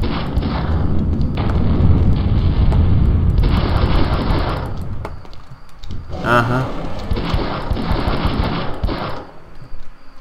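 An M249 machine gun fired in Castleminer Z, long rapid bursts of loud gunfire with short pauses and thuds between them.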